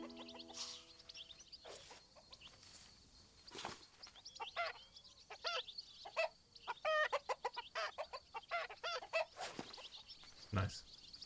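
Chickens in the wildlife adventure video game Alba cluck in short, repeated bursts at moderate distance over a quiet outdoor ambience, with a few isolated bird calls and soft knocks scattered between.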